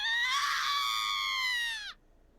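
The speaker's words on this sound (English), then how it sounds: "I heard a scream in the distance." A long, high, sustained scream rings out in the Raging Loop video game, holding steady for about two seconds before breaking off abruptly, heard alone without any talk.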